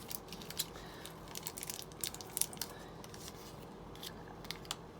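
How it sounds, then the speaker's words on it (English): A small, empty plastic parts bag for a 1:8 Dodge Charger model kit is undone, making quiet, close crinkles and light rustling snaps in scattered bursts. "I'm just undoing an empty bag"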